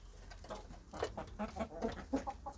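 Farmyard chickens cluck softly and irregularly while eating chopped lettuce, a low murmuring series of short calls over faint background noise.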